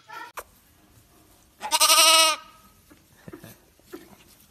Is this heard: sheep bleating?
yes